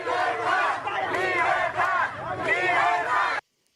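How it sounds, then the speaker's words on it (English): A large crowd of roughly twenty to thirty people swarms around a handful of police officers, yelling and shouting continuously and loudly, then the sound cuts off abruptly. "The crowd is now like really swarming around the police."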